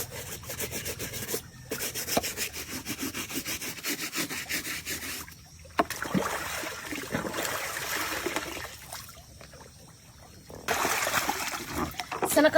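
Shoes being scrubbed with a brush while washed with water, a continuous rhythmic rasping rub with splashes and trickles, close and fairly loud, broken by a few brief pauses.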